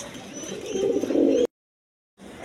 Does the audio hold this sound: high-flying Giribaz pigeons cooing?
yes